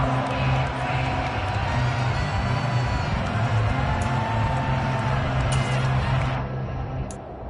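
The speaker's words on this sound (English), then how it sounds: "How about some applause for the defense there?" A stadium crowd in an American football video game cheers and applauds in a continuous loud roar that fades near the end.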